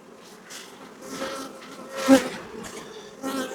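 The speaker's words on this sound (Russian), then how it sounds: "Мы видим количество пчел на прилеточках." Honey bees buzzing at hive entrances in an apiary, a dense close-up hum of many insects with swelling passes as individual bees fly near, no talking.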